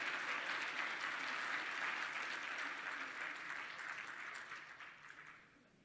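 A church congregation applauds in a long, dense wash of clapping that holds steady, then thins and fades out toward the end.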